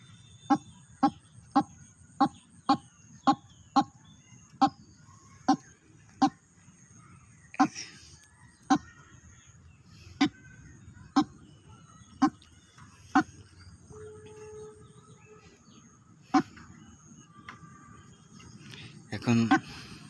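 A white-breasted waterhen decoy gives sharp, evenly spaced calls that slow and space out over time, with softer chick calls and a quiet background hum.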